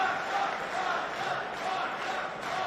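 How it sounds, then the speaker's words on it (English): A wrestling crowd shouting and roaring at two women fighters after a submission finish at a GCW Bloodsport event, a sustained, moderately distant wash of mixed yells and cheers with a mumbling commentator underneath. "Both these women hearing it from the crowd."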